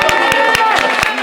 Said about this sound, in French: attendez un applaudissement pour la tablette rose